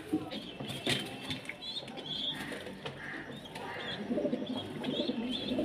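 Pigeons penned in their loft coo softly in soft repeated rounds, joined by brief wing flutters and faint chirps.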